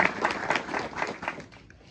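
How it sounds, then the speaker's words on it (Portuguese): A church congregation applauds during Sunday Mass, a moderate, steady burst of hand clapping that thins and fades out toward the end of the two seconds. "Nós vamos aplaudir a Deus pela sua misericórdia"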